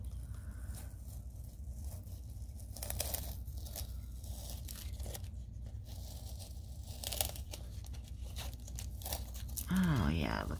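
Masking tape is peeled slowly off a dried acrylic paint pour, giving a faint, drawn-out tearing crackle in short stretches under a steady background hiss.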